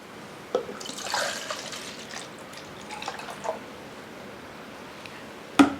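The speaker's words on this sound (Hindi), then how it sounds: "मैं आपको सीधा पानी डालकर इसमें दिखा देता हूं" Water poured straight into a thick yogurt mixture in a pot, a soft splashing pour with a few clinks, fairly quiet and close.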